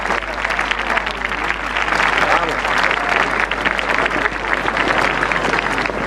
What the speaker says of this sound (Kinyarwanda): Amashyi aratangwa.